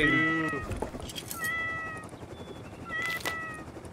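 A cat meows loudly up close in a video game, one long drawn-out cry followed by two shorter meows, over a busy background of game noise.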